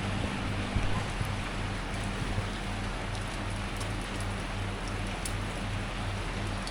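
Steady rain patters on a rainy morning in Udon Thani, a continuous hiss with a low hum underneath and no talk.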